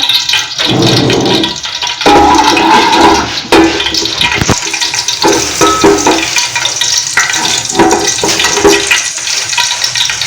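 Cumin seeds hit hot oil while chole is being cooked, producing a loud, close, continuous crackling sizzle with stirring scrapes and occasional sharper pops throughout.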